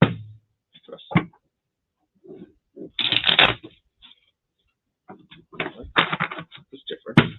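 A deck of tarot-style cards is shuffled in several quick riffling bursts separated by pauses, close and crisp, with a voice speaking intermittently between them.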